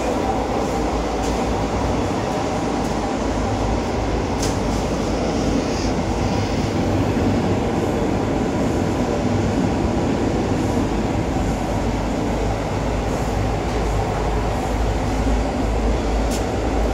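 A Russian-built MÁV class 416 diesel multiple unit runs steadily, giving a continuous loud rumble and rattle with occasional clicks and no talk.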